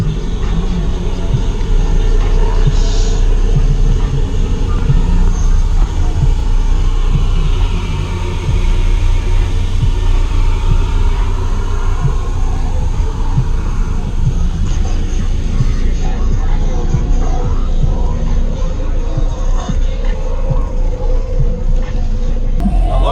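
Car audio system with six B2 Audio Rage V212 subwoofers on a Smart 5K amplifier, a very loud, continuous deep bass drone with throbbing rumble and rattling throughout.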